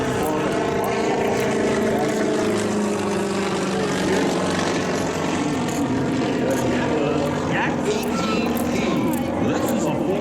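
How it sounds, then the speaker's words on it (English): Propeller aircraft flying at an air show demonstration, a steady droning engine and airscrew hum that holds loud and close throughout, with a speaking voice over it. "This is a full-place training and cross-country aircraft, which he purchased in Moscow"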